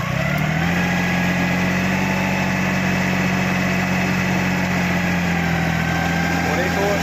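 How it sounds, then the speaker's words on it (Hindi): A tractor engine running in a wet field holds a steady, loud, droning idle that rumbles on without change for several seconds. "अभी चलवा के दिखाते हैं नौसाद भाई से ट्रैक्टर"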